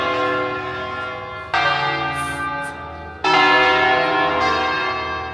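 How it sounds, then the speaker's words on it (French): Swinging church bells in a lakeside town on Lake Como, Italy, ringing loudly and continuously, with fresh strikes adding bright layers twice as the peal builds. "on voit les cloches bouger."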